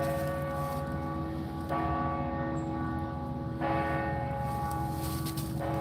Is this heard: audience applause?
no